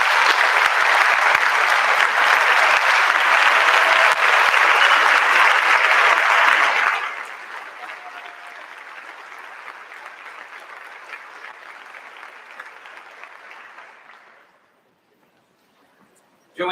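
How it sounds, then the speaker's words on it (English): Sustained, loud applause from an audience at a staff end-of-year celebration, dense and steady for several seconds before thinning to softer clapping that dies away into silence. "Let's give Vivian one more round of applause."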